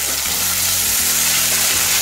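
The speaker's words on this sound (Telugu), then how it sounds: "ఇప్పుడు దీంట్లో కరివేపాకు వేసేసుకుంటున్నాను" Curry leaves hit hot oil with onions in a pan, giving a loud, steady, dense sizzle and crackle close by.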